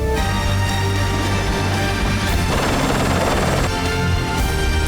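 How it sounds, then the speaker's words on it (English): A life flight medical helicopter's loud, steady rotor thump and engine roar fill the whole stretch, close and continuous with no voices. "A life flight helicopter rushed Justin to the Intermountain Medical Center in Salt Lake City"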